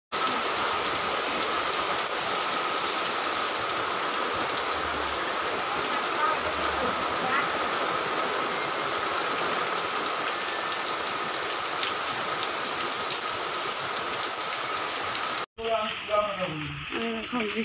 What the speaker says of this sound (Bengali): জোরে বৃষ্টি এসে গেছে, কিছু শোনাও যাচ্ছে না